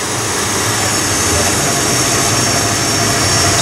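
An Acer 3VS electronic variable speed milling machine runs at a steady loud whine with dense broadband noise. The sound is unbroken throughout, and a voice is partly audible beneath it.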